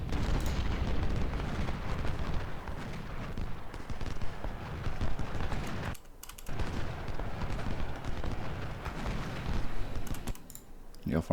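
Musket volleys and artillery fire from a Civil War strategy game at the Battle of Malvern Hill, a dense continuous crackle of gunfire with heavy low rumble, broken by two brief lulls.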